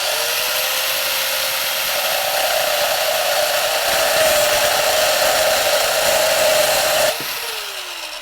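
A BN Products corded rebar cutting saw cuts through steel rebar, a loud, steady high whine running for about seven seconds before winding down as the blade comes free.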